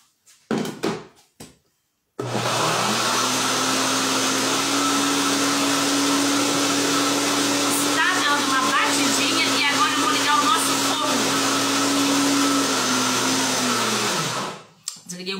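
Electric mixer beating bombocado batter of cheese and coconut, a steady loud motor whir running for about twelve seconds after a brief clatter, then winding down to a stop.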